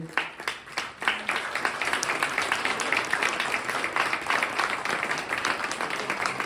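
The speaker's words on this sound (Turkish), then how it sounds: "Şimdi ikincilik ödülünü kazanan ekip Alkışlarınızla ARS 3 takımı Malik Malkavi," An audience at the Inospark open innovation camp breaks into sustained applause for the second-place prize team, with many hands clapping steadily and densely throughout the roomy hall.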